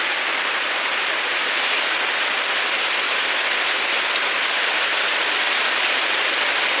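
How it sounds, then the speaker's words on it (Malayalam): Heavy rain pours steadily and loudly on surfaces outdoors near a home, a dense, unbroken hiss with no voices. "അങ്ങനെ ആ മഴ കൂടി വരുന്നു."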